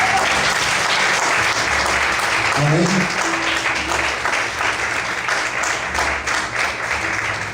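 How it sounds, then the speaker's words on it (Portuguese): A church congregation claps loudly and continuously in a sustained, dense roar of applause, with a voice briefly heard over it. "Será que você pode aplaudir bem forte o Senhor?"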